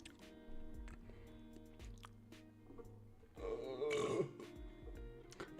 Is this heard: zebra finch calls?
no